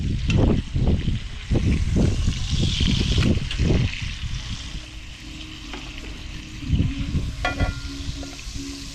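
Onions sauté in a Dutch oven with a continuous sizzle, accompanied by several heavy clunks and bumps of handling early on before the sizzle settles into a softer, steady hiss.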